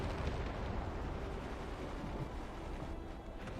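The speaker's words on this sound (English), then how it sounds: "Guided bomb. We hit the the rear of the ship." Guided bomb striking the rear of a ship in the Forts video game: a sustained, rumbling explosive roar with broad crackling debris noise that holds steady for a few seconds at moderate volume, with no voices.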